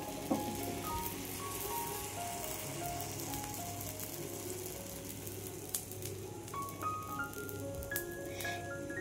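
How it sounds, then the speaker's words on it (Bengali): Ripe banana pitha batter spread thin in a hot pan over a low gas flame gives off a soft, steady sizzle, faint and continuous, with a few light clicks scattered through it. "গ্যাসের আঁচ একদম লোতে রেখে এটাকে কিছুক্ষণের জন্য দুদিকটা ভালো করে ভেজে নেব।"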